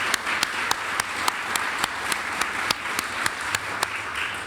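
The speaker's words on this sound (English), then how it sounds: "give him one more round of applause for his leadership" Audience applause at a press conference, steady and moderately loud, with sharp individual claps cutting through the wash of clapping at a regular beat and no talk over it.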